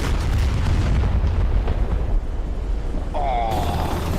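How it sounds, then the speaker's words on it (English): A jet aircraft slamming into the side of a ship in the DCS flight simulator game, heard as a loud, sustained rumbling explosion roar that churns on for several seconds before a sharper burst near the end. "you impacted on the side of the ship rather than on the runway"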